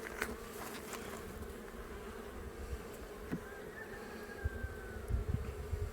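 Honeybees swarm around an open hive during an inspection, a thick continuous buzzing that surrounds the listener at close range, with occasional louder individual bees passing near and no talking.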